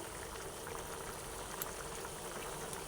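Eggplant kofta curry gravy simmering in a pan, a steady soft bubbling and popping that stays quiet and even throughout, with no voices.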